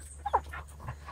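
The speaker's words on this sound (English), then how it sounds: "Oh, no, that's the green ribbon dog." An Airedale Terrier puppy in a back yard gives a brief high whimper and yip, close and moderately loud, followed by faint rustling.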